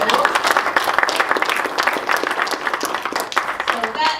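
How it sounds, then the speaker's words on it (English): Audience applause at a community event on gender roles, lively and close clapping with individual claps standing out, mixed with voices and cheering from the crowd. "I just want to applaud and thank you."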